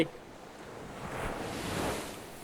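White-capped ocean waves wash onto a beach in Vengurla, a soft, rising swell of surf noise over a couple of seconds, mixed with light wind.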